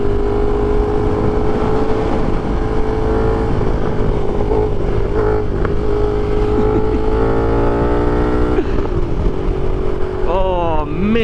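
A KTM 1290 Super Duke motorcycle roars along on the road, the engine droning loudly and steadily, then revving up and down near the end with rising and falling pitch sweeps, all heard over heavy wind rush.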